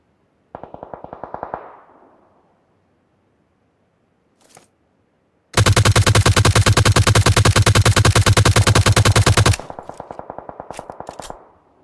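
Automatic fire from a G36C assault rifle in PUBG Mobile: a short burst, then a single distant shot, then a loud sustained four-second volley of rapid, evenly spaced rounds, followed by another quieter trailing burst.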